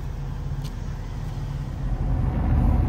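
Steady low rumble of a pickup truck cruising on the road, heard from inside the cab, with continuous road and engine noise swelling slightly toward the end and no talk.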